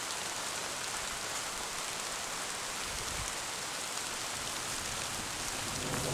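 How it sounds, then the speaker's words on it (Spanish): Steady rain falls outdoors by a fishing spot, a dense even hiss of drops on surfaces with no voices, constant from start to finish. "Está lloviendo."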